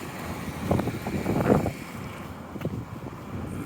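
Cold winter north wind buffeting outdoors along a city street, a rough, gusty rumble and hiss close on the microphone, strongest in the first half and easing toward the end.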